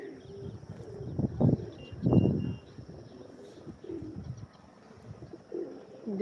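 Pigeons coo at a backyard pigeon loft, low rolling calls swelling in a few louder bursts near the start, then softer ongoing cooing with a faint high hum in the background.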